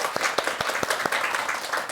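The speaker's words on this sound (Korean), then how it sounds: "박수 한번." A brief burst of audience applause, a few distinct claps at the start swelling into a short scattered round from a small group in a room.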